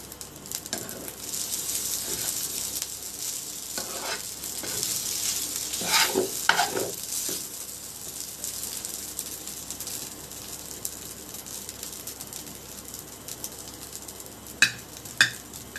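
Shrimp stir-fried into chicken fried rice in a pan, giving a steady sizzle under scraping stirring strokes, with a few sharp clicks of the utensil near the end.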